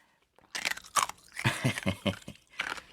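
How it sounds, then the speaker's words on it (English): Ice cubes crunched between teeth, with a string of sharp, close, loud bites and crunches in an uneven chewing rhythm and no voices. "Stand by for ice chewing."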